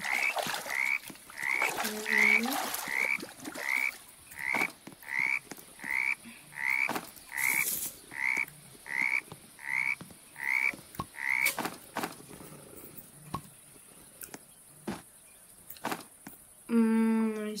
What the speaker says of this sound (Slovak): Aha, nie, žaby.